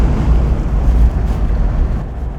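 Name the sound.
raspy exhaust of classic British car driving in overdrive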